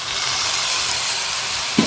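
Onions frying in oil in a pan for Tamil tomato pachadi give a steady, close sizzle and hiss throughout, with a brief louder stir or clatter near the end.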